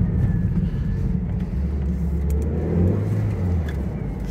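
An old Toyota MR2 engine, running on old fuel, accelerates with a low rising rumble and whir that climbs in pitch, heard close and steady with no voices.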